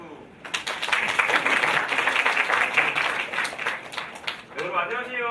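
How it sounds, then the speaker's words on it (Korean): An audience applauds at a university student presentation contest, a fairly faint but steady wash of clapping that swells after a brief pause and runs for several seconds before a voice takes over. "박수"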